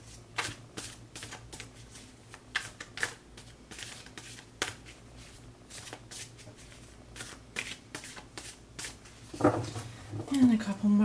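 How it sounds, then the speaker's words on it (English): A deck of tarot cards shuffled in quick riffles and bridges, a run of sharp papery bursts, close and moderately loud, with a soft voice coming in near the end. "And a couple more shuffles"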